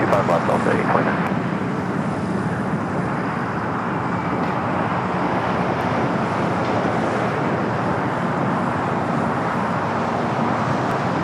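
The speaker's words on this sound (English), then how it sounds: "we got that Dreamliner now starting its roll down to 25 right" A Boeing Dreamliner begins its takeoff roll on runway 25 right at LAX: a steady, broad jet roar that holds at a constant level, heard from a distance, with voices talking over it.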